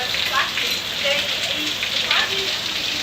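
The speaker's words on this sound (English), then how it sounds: "I think it's safe to say that it's raining." Heavy rain pours down at a beach resort in a constant loud hiss of drops on surfaces, close and unbroken, with faint voices underneath.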